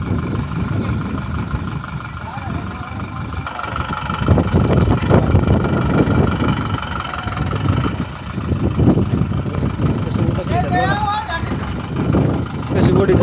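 A tempo truck's engine runs steadily at a house slab construction site, a loud low rumbling idle throughout, with people talking over it.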